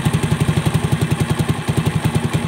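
A pushrod engine idles after a half turn of the air/fuel screw clockwise, chugging in a steady, fast, even rhythm of loud low pulses, close up with no voices.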